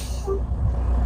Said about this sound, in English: I'm going to get rolling at 5 miles an hour, hit the brake.